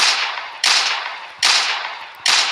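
Three sharp pistol shots in a video game ring out about a second apart, each a loud crack trailing into a fading hiss.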